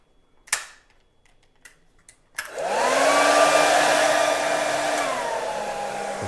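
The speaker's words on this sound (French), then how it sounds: "c'est là où vous intervenez avec votre sèche-cheveux que vous faites chauffer" A few sharp clicks and a pop, then a hair dryer switches on and runs steadily close to the microphone as it warms a decal kit being fitted to a Yamaha motorcycle. Its whine dips slightly partway through.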